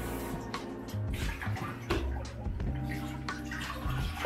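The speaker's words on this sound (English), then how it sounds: "You can start to pour out your water." Water being poured out of a film developing tank during home C-41 color film processing with a Kodak Flexicolor kit, a continuous splashing, gurgling rush close to the microphone with small drips and surges.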